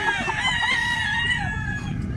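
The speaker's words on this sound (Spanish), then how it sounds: "Es gallo. Es gallo, fíjate." A rooster at a breeding farm in Guamuchil, Sinaloa crows loudly and close by, one sustained call filling the whole moment.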